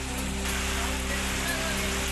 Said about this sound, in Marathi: चंद्रपुरात मुसळधार पाऊस बरसला.